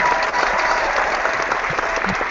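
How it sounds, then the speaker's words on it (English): A crowd gives a round of applause, a dense, lively burst of clapping that stays loud and even for a couple of seconds. "Oh my god, Kevin, round of applause to that one."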